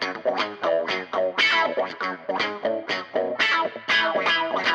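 70s cop show style music mix with reverb-washed guitars, choppy rhythmic stabs and sustained chords pulsing in a funky pattern, loud and full with no voices.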